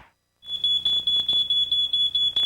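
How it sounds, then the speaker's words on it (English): A smoke detector sounds a loud, shrill electronic beep, repeating in rapid, steady pulses after a moment of silence, with no voices. "This is the sound of a smoke detector."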